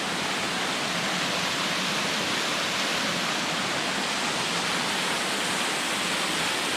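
Deep Creek flowing below a trail in the Great Smoky Mountains in January, a steady broadband rush of moving water with no breaks, even and fairly soft.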